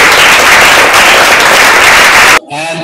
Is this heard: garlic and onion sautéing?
no